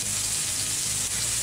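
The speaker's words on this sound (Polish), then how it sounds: "ląduje u nas cebulka na patelni, mieszamy i smażymy tak długo, żeby zmiękła" Chopped onion fries with crispy bacon bits in a pan, giving a dense, continuous close sizzle with soft stirring scrapes and no talking.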